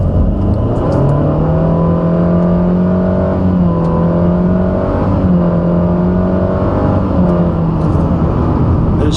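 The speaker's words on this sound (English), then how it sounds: "you might hear that droning noise from the engine we talked about earlier" A 2013 Nissan Altima 2.5 SL's engine drones steadily from inside the cabin while accelerating, a sustained low hum with rising and falling tone over road noise.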